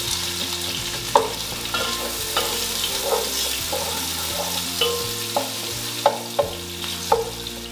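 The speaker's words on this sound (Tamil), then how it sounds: "இந்த ஆனியன் கூட இதில் ஆட் பண்ணிக்கலாம். நல்லா வதக்கிக்கலாம்" Chopped onions sauté in oil in a pan for green peas pulao, with a steady sizzle and repeated scraping stir strokes at an even pace. Low background music plays throughout, and no voices are heard.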